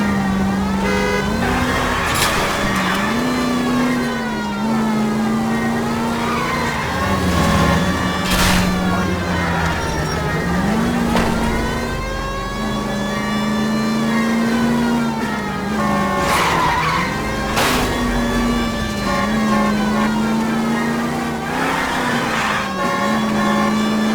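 A car in an L.A. Noire chase revs hard, its engine pitch climbing and falling repeatedly, with tyre squeals and skids cutting through at intervals.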